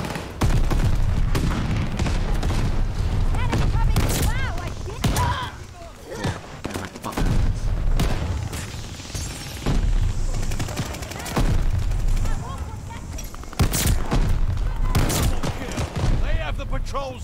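Call of Duty Vanguard shotgun gunfire, loud repeated blasts and bursts of shots in rapid succession through a busy game mix, with a voice talking over parts of it.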